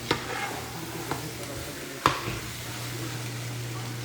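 Smoked sausage sizzles in a pot as the base for a bayou shrimp stew, a steady close frying hiss broken by a few sharp clicks of stirring.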